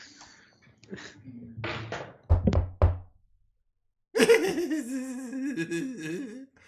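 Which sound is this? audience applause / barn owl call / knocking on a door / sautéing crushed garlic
knocking on a door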